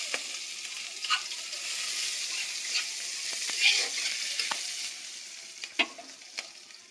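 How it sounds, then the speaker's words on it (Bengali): Chopped garlic and onion sizzle steadily in a pan while being stirred, with a continuous frying hiss broken by sharper scraping clicks from the spoon. "এবার নেড়ে নেব ভালো করে"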